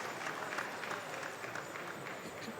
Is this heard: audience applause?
yes